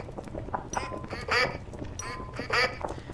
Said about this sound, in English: I need this chicken, even though it sounds like a duck